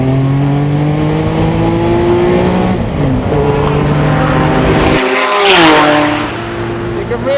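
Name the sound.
Porsche 962C turbo race car driving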